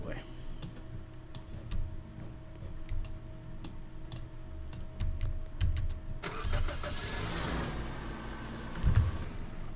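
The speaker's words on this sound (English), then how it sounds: "pull the truck up a little bit." A truck engine in the Roblox game Lumber Tycoon 2 rumbles steadily, swelling louder midway, with rapid keyboard clicks and a voice murmuring over it.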